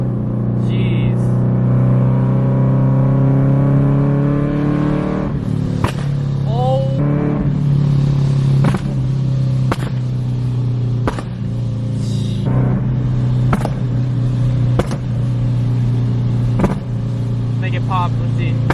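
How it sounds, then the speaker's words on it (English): A Scion FR-S sports car with a loud aftermarket exhaust idles with a deep steady drone, broken by repeated sharp revs and pops, close and loud over the whole stretch. "Loud exhaust,"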